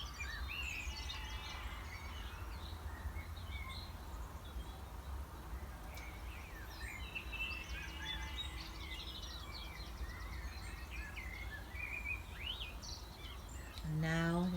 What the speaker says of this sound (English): just listen to the bird song